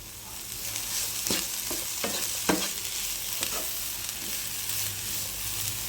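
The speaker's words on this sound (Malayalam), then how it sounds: "ഇതെല്ലാം നന്നായി കൂട്ടി യോജിപ്പിക്കുക" A spoon stirs mixed cheera greens with salt in a pan, giving several scraping strokes over a low, constant sizzle, with no talk.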